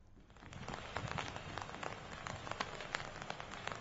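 First monsoon rain falling in town streets, a soft steady patter of drops on surfaces with scattered sharper splashes, fairly faint and without voices.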